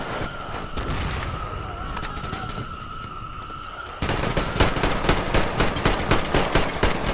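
In the video game Metro Exodus, a sustained siren-like tone gives way to loud, rapid automatic gunfire that fires continuously for the last three seconds.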